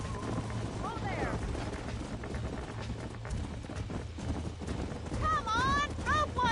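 In the Red Dead Redemption western video game, a horse gallops with rhythmic clip-clopping hooves beneath a steady ambient bed, and a high whinnying cry rises near the end.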